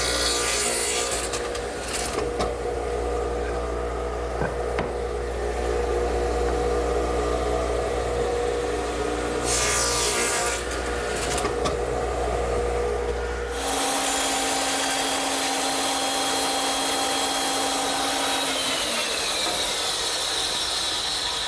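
A radial arm saw set at an angle cuts the sides of wooden tenons, giving a loud, steady rasping whine that lasts for several seconds, then drops to a quieter running tone near the end.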